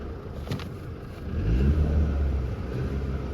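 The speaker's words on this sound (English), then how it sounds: "to start the car up." A Mercedes-Benz C200h 1.5 mild-hybrid engine cranks and catches, then revs up to a loud rumble before settling into a steady idle nearby.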